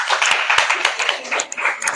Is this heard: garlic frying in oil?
no